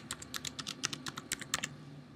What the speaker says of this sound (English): I'm just going to type in a random password here.